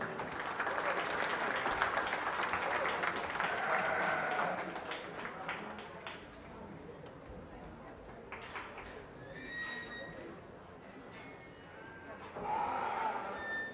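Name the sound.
audience applause at a junior fair sheep show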